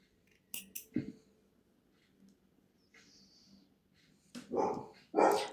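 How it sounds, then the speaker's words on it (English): Scissors snip crochet thread in a quiet room: a couple of sharp cuts near the start, then a louder burst of snipping and handling noise toward the end. "Now I'm going to cut my thread."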